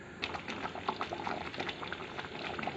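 Chili chicken sauce bubbling in a pan over a high flame, a faint, dense stream of small pops and bursts with no pauses.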